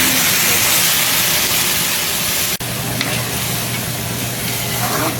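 Sardines frying in a pan, a dense loud sizzling hiss running steadily throughout with a brief break midway, close and without talk.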